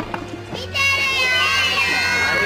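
A crowd of children cheers and shouts loudly and continuously after a brief quieter moment with a few voices.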